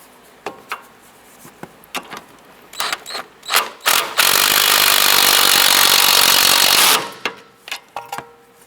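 Wrench tightening the lower sway bar end link nut on a 2007-2012 Nissan Versa: sharp ratcheting clicks in short bursts, then a few seconds of harsh steady mechanical whirring, then more scattered clicks, close and without talking.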